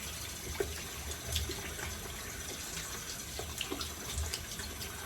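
A razor rinsed under a running tap, giving a continuous close stream of faucet water into a sink with a few brief clicks and knocks as the blade is moved through the flow; no one talks.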